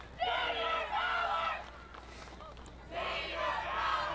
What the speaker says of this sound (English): Give this Eastlake cheer squad some credit there.